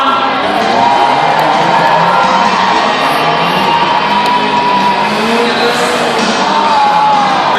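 A grandstand crowd at a truck race cheers and whoops in front of the main stands, a loud continuous roar blended with engine noise, while an announcer talks over it.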